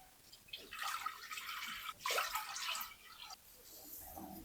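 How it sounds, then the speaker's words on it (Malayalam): A pot of water boils for pasta on the stove, giving soft, uneven bubbling and burbling close by at a low level, swelling and easing in short bursts. "ഓക്കെ, അപ്പോൾ വെള്ളം തിളച്ചു"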